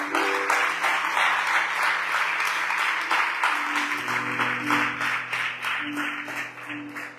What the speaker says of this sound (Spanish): ¿Cuánto le dan un aplauso a ese Señor amado?